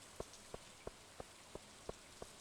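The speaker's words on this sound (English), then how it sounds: "Rain in this game is so nice compared to Minecraft." Rain in Stardew Valley falls as a soft, even hiss, broken by a regular series of seven faint, evenly spaced taps, with no talk.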